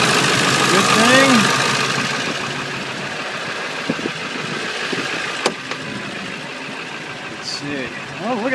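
A 1999 Ford F250 Super Duty 4x4 pickup engine idling steadily up close, with an even mechanical chug, a few light clicks, and someone talking over it.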